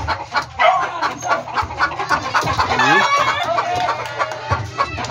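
A young pullet hen clucks loudly and repeatedly right after laying an egg, a close, excited cackle in uneven bursts with other farm fowl faintly around.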